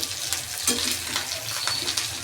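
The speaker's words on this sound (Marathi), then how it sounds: "थोडेसे हलवून घ्यायचे आहे" Eggplant with coriander sizzles steadily in a pan while a spatula stirs it, scraping and clinking lightly against the metal.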